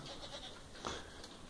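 Brief bleat from a Boer goat crossed with Kiko, a single short nasal call at moderate distance, fairly faint with no talking over it.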